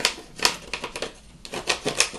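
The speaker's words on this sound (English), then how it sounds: "burnish it a little" Paper on a mixed-media scrapbook layout is burnished with quick, rhythmic rubbing strokes, a close run of dry scratchy swipes and taps that come in uneven clusters.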